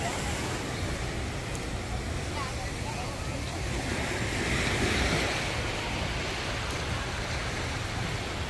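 Ocean surf on the beach at Corona Del Mar, California, a steady broad wash of breaking waves mixed with wind buffeting the microphone, with voices faintly present.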